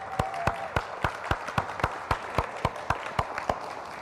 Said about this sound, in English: join me in giving them a round of applause for a wonderful spring season